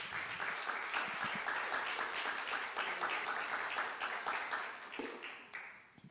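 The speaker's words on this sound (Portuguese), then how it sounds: "Dê um aplauso a Jesus." A church congregation applauds during a worship service, steady broadband clapping sustained for several seconds before fading near the end, with a few voices mixed in.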